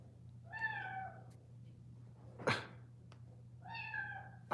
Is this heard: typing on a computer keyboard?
no